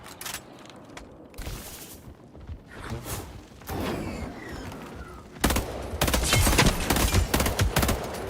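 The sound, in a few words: gunfire in a video game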